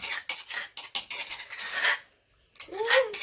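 Chilies are pounded in a mortar, giving a close series of quick, irregular knocks and clatters with a short pause before the pounding resumes.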